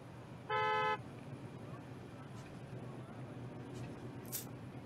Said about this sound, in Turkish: Bana bak, bana korna çalma